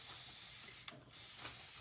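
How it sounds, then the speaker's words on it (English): Continuous-spray bottle misting water in a few soft hissing bursts, close and fairly quiet, with no talk. "The little continuous spray bottles."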